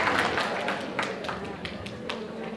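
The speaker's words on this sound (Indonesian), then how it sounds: "tepuk tangan dong untuk Bapak Ibu semuanya" Audience applause in a data analysis and validation training session, a dense burst of claps sustained through the short span at moderate level, with a few sharper hand strikes standing out.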